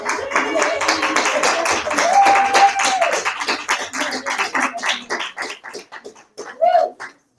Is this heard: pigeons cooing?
no